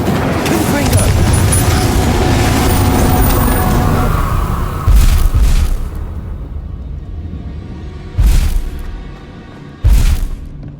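Confringo spell blasts in Hogwarts Legacy while fighting inferi: a loud, sustained rumble of battle gives way to separate heavy booming bursts, each one short and close, with quiet gaps between them.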